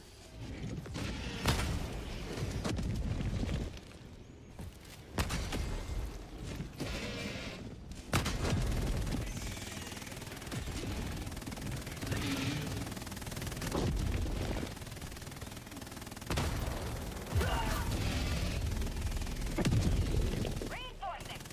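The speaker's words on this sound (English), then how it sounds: "Calling down a sentry!" Sustained automated gunfire from a deployed sentry turret in a shooter video game, rattling steadily through the clip with bursts and mechanical clatter, while players talk over it.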